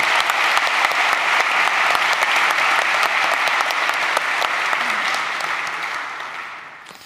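A conference audience applauds the contributors to the ODC Forge. The clapping is dense and steady, then thins and fades toward the end, with no voices over it.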